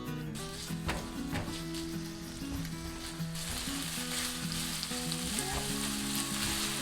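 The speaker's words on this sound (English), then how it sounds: "We'll cook them slowly and let the aroma and flavor infuse into the oil." Pork belly pieces fry slowly in oil, a dense steady sizzle and crackle close up, with stirring clatter and background music underneath and no talk.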